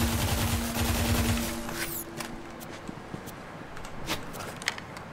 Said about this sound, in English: The Star Helix is a strong weapon.